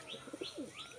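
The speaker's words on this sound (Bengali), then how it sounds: "পায়রাগুলো খুব ছটফটে" Pigeons of a Sylheti breed coo softly in short burbling phrases, mixed with faint higher chirps, close by and quiet with no talk.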